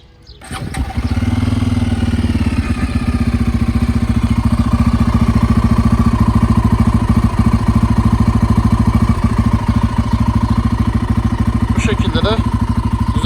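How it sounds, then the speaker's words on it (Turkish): A Bajaj Pulsar N250 single-cylinder motorcycle engine starts and settles into a steady, loud, thumping idle with a rapid pulsing beat that continues throughout. "İsterseniz gelin bir sesine bakalım, çalıştıralım motorumuzu."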